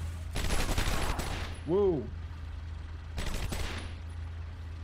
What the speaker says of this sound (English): They just started shooting at me.